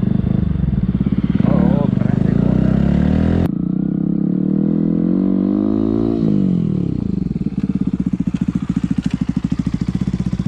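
A Pulsar NS 160 motorcycle with an Akrapovic full-system exhaust idles with a loud, throaty pulse, blips and revs rising and falling, and settles back to a heavy, rhythmic burble, close by.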